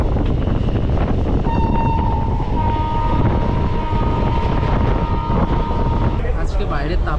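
A Ganadevata Express passenger train runs on the line between Kolkata and Tarapith with a constant loud rumble and clatter, and a long horn sounds in the middle, heard from inside the train near the door.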